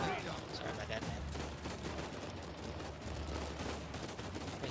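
Sustained gunfire from a shooter video game, Uncharted 4, rattling continuously at moderate loudness with dense bursts throughout, a voice audible at times beneath the shooting.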